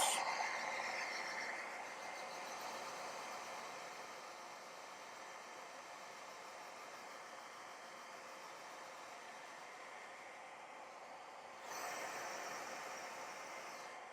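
A hairdryer blowing on painted Battletech miniatures, a steady, fairly faint broadband whoosh that runs throughout and briefly grows louder near the end.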